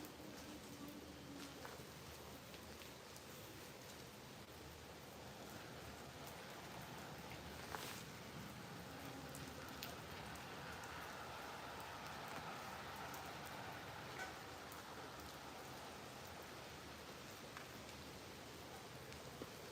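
Heavy rain pours down at a railway lineside near Acton Bridge. It is a steady, dense, hissing wash that stays even throughout, with faint patters and occasional louder drops.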